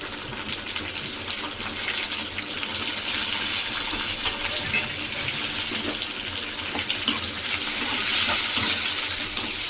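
Chopped tomatoes sautéing in hot oil for mutton head bone curry, a loud continuous hissing sizzle that swells slightly toward the end, steady and close with no voices.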